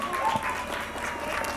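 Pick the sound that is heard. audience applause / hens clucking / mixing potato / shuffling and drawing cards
audience applause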